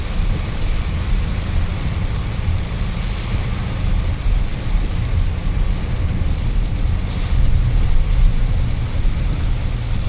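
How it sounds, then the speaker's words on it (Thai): Heavy thunderstorm rain pours down in Udon Thani town in a steady, dense hiss with a deep rumbling undertone, continuous and unbroken, with no voices. "ตอนนี้ฝนกำลังตกอย่าง แรงเลยนะครับ"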